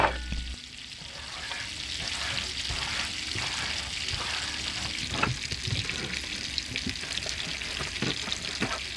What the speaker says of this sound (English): Three and a half minutes, maybe 4 minutes on each side, and the steak should be done